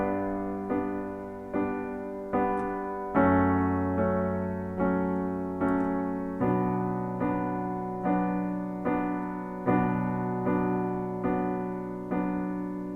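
Piano accompaniment for a song: a single low note on each downbeat under four evenly repeated right-hand chords per measure, steady and close, shifting chords every few bars.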